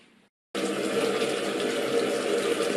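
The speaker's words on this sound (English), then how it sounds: "So now we try to rinse it off." After a brief quiet moment, a faucet starts running and water pours steadily and fairly loud while a metal shield is rinsed off after bluing.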